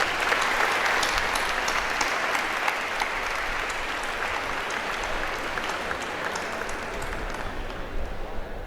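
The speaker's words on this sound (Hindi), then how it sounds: "एक बात तालियां बजाओ।" Audience at a college induction program clapping for students, a loud, dense, sustained round of applause filling the hall without a break.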